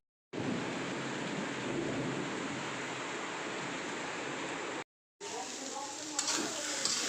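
Noodles sizzle and fry in a pan with a steady, fairly loud hiss. The sound breaks off briefly, then comes back with a few stirring clatters.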